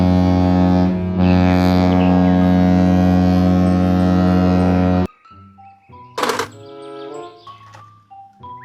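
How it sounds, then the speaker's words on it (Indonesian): A cruise ship's horn sounds one long, deep, steady blast lasting about five seconds, loud and sustained before it stops abruptly, followed by scattered quieter sounds. "Kapal pesiar."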